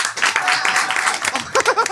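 A live comedy show audience in Paris applauds, a short burst of dense clapping mixed with voices and cheers, lasting under two seconds.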